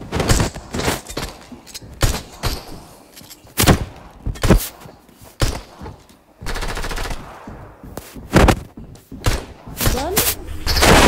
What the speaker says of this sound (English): Oh, yeah, they're shooting at me.